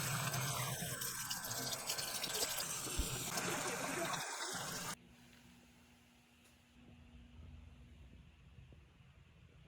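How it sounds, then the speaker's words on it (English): Water runs from a tap as makeup brushes are rinsed, a loud close splashing trickle for about five seconds that cuts off abruptly, leaving a quiet room with faint background hum. "rinse it a couple of times, make sure it runs clean"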